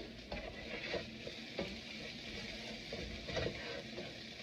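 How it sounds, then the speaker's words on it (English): Green chilies are stir fried in a pan for channa masala, a faint sizzle broken by repeated spatula scrapes and knocks at an uneven pace. "Now I'm going to put in our chilies. And we're going to stir fry them too."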